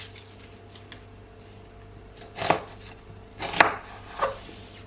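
A knife chops peeled onions into wedges on a board, a few sharp crisp cuts spaced about a second apart over faint room hum.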